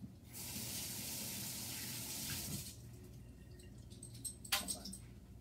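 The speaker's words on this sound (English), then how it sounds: "let me rinse that off" Running tap water rinses something in a kitchen for a few seconds as a steady hiss, then stops, followed by faint clinks and handling sounds.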